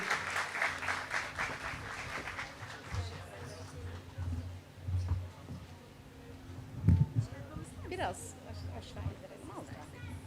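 Outdoor applause at a groundbreaking ceremony for a children's facility, a burst of clapping at the start that fades under a crowd murmur, with speech and scattered thumps following.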